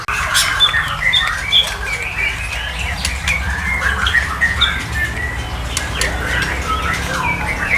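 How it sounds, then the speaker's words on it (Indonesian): A golden long-tailed shrike sings continuously up close, a bright, busy run of chirps and warbling whistles over a steady background hiss, with no talking. "Itu ada pentet golden, Mas ya, atau pentet golden. Dan ini dari tadi udah bunyi terus"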